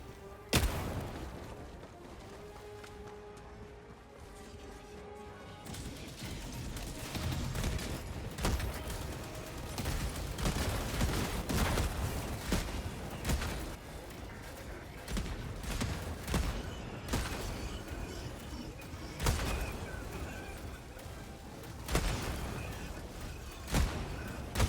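Mech weapons firing together in a video game against robotic enemies: a long barrage of booming, cracking shots and whooshes, dense and continuous after the first few seconds, with louder bursts punctuating a steady rumble.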